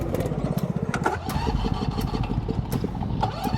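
A racing lawn mower's engine is being started, sputtering and catching with rapid rhythmic firing pulses that rise and fall across a few seconds, close and loud.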